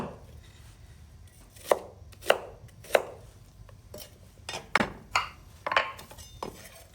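A knife chopping through onions on a board for Thai soup, a handful of crisp, uneven cuts with sharp thuds, close and clear over a quiet kitchen background.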